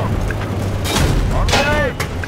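Tank cannon fire during a Battlefield 3 campaign tank battle, with heavy booming blasts and rumble under shouted radio-style commands, plus a sweeping whine from the battlefield.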